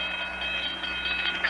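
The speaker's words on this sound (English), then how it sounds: "The train was coming closer." A steady rumble of an approaching train with metallic ringing tones over it, played as a radio drama effect. It continues unbroken at moderate level, with no bell strokes or whistle blast standing out.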